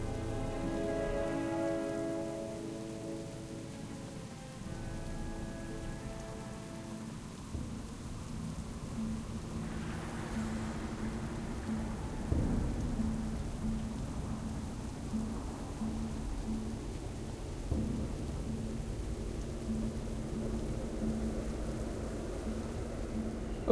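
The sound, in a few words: rain and thunder in World of Warcraft video game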